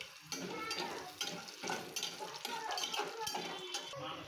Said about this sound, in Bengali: একটা হাঁড়িতে তেলটাকে গরম করে শুকনো লঙ্কা, কাঁচা লঙ্কা, জিরা, সরিষা ও দিব চীনাবাদাম, এটাকে দিয়ে ভালো করে নেড়ে চেড়ে একটু ভেজে নিতে হবে